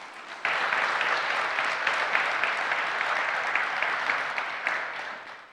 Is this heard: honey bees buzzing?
no